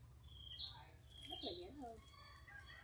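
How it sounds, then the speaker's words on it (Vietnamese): Birds on a countryside morning: a few faint, high chirps and short warbling calls, spaced apart over a low steady background hum. "Các bạn có nghe tiếng chim hót không?"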